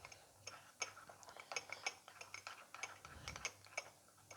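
A spoon clinks and scrapes against a bowl while stirring milk into Oreo cake batter, a steady run of close, quiet metallic ticks and knocks with no talking.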